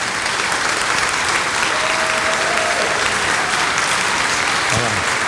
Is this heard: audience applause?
yes